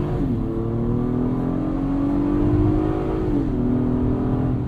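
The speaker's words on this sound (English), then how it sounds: "Great power, and this V6 just sings." A 2022 Acura MDX V6 engine accelerating from inside the cabin: a smooth, steady rising drone that climbs in pitch, dips briefly at a gear change, then keeps pulling under low road rumble.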